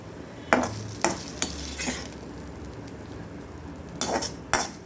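Cooked mutton cauliflower fry being scraped and shifted from an iron pan into another pan, with a few sharp metal clinks and scrapes of a spoon against the pan and a faint sizzle between them.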